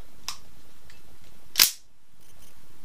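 A revolver cracks once in a fast-draw twist draw, a single sharp, loud, close report with a short ring after it, preceded by a faint click.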